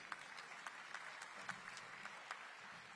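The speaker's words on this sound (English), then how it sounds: "Give Peter a round of applause" Faint, distant applause from an audience at a county State of the County address, a steady patter of clapping hands continuing throughout.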